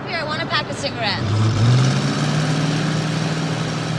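A car engine runs steadily from about one and a half seconds on, a low continuous hum that follows a burst of overlapping voices.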